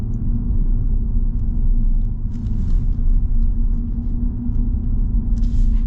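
A 2024 Ram 1500 pickup with a V6 engine cruises along, its steady low road rumble and engine drone filling the cabin continuously, loud and even with no talking.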